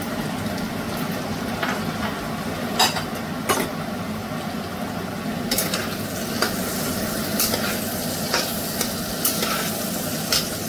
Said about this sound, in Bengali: এই সময় এখানে আমি কয়েকটা কাঁচা লঙ্কা দিয়ে দিলাম, আর দিলাম কিশমিশ আর কাজু।